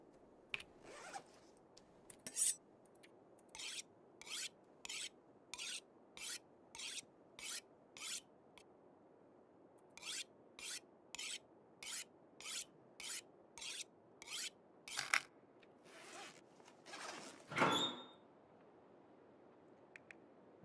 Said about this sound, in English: I'm gonna need the hacksaw